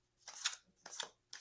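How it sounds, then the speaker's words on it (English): A tarot card deck with a sticky new finish being shuffled by hand, three short brushing riffles in quick succession, close and soft, with no speech. "Let me show you shuffling this thing."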